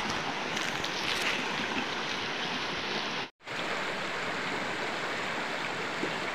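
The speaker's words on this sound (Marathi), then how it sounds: "आता काका पाणी पार करतायत." A person wades across shallow coastal water while out catching crabs, a continuous close splashing wash that breaks off briefly midway and then resumes.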